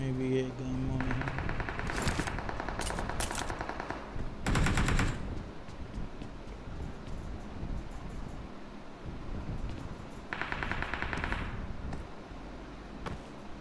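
Bursts of automatic gunfire from a shooter video game rattle in several close, loud volleys separated by quieter stretches, with people talking underneath.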